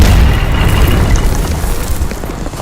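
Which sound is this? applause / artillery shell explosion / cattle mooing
artillery shell explosion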